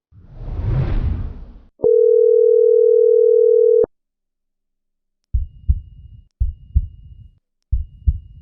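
A telephone dial tone sounds while calling a local coin shop: a brief rustle, then a steady tone held for about two seconds, followed by a pause and several short repeated pulses on the line.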